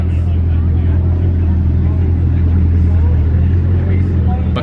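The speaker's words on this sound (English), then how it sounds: "We got a Chiron and an Elva rolling up." A Bugatti Chiron and a McLaren Elva supercar drive past with a loud, steady low engine roar that holds at an even level the whole time.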